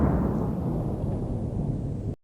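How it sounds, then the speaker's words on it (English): A bomb explodes in an animated Minecraft-style video, a loud, dense roaring blast that rumbles with heavy low-end for about two seconds and then cuts off abruptly. "since the explosion damaged them all"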